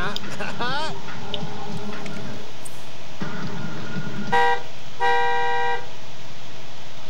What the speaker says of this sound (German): Wer hupt denn jetzt?